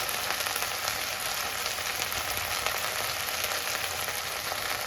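Turmeric, chili powder and salt fry and get stirred in a pan for a country chicken curry with bottle gourd, a loud continuous close sizzle with scraping stir sounds throughout.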